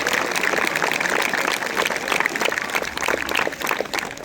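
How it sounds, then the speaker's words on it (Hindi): Schoolchildren clap loudly together at a school gathering, a dense, continuous patter of many small hands with slight swells in intensity, filling the whole stretch without speech. "इसके लिए एक बार सभी बच्चे जोरदार तालियां बजाएं।"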